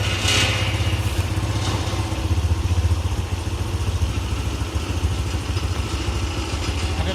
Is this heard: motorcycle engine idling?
yes